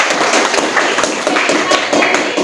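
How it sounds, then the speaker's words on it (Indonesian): A class claps for a fellow student, a close, steady patter of many hands applauding continuously with voices mixed in. "kasih tepuk tangan dulu untuk Ayu, kasih tepuk tangan"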